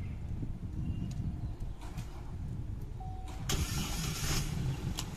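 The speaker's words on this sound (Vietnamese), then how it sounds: "Các bác nghe kỹ tiếng máy này, em sẽ để nổ bằng chìa khóa thông minh" A 2017 car is started with a smart key: a quiet interior ambience gives way to a brief starter whirr and the engine catching into a settled idle, fairly faint and heard alone.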